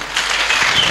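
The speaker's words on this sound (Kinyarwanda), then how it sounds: "Mwayikomeye amashyi." Applause from an audience at a worship gathering, dense and steady clapping filling the whole second at a loud, close level.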